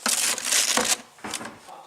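Paper crinkles and crushes in close, noisy bursts, two quick handfuls with a short pause between them.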